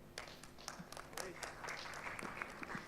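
An audience at an induction and orientation programme breaks into bursts of clapping and cheering, with scattered claps and voices mixed in at moderate distance.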